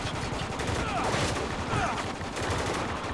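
Steady, dense gunfire in the war game Spec Ops: The Line, a continuous roar of overlapping shots at a constant loud level with no pauses.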